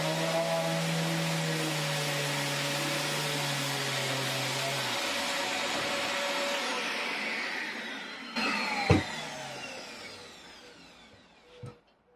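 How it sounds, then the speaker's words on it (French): Small 16-litre workshop vacuum running in a woodworking shop with a sander, a steady whirring drone that winds down, followed by a few sharp knocks. "ce petit aspirateur 16 litres, on dira que c'est le meilleur. Donc c'est parti, j'allume tout ça et on attaque le ponçage."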